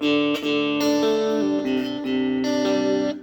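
Strummed acoustic guitar chords from a song ring out in steady, rhythmic strokes, shifting between two chord shapes at a slow, even pace with no voices.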